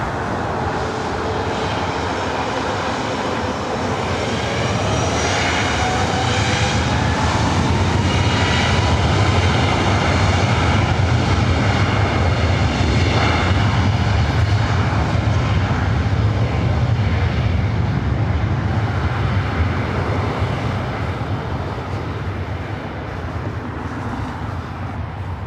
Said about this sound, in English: Alaska Airlines flight 1048 coming in from Seattle,